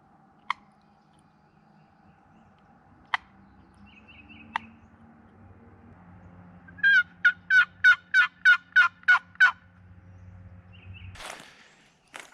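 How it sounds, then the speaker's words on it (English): A wild turkey gobbles once in a rapid, loud, rattling burst, with a few faint footsteps and soft clicks around it outdoors. "There's a bird up here gobbling."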